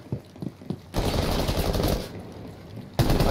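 Gunfire in the video game Rainbow Six Siege: a few faint shots at first, then a loud, dense burst of sustained automatic fire that carries on for about two seconds, with another loud burst at the end.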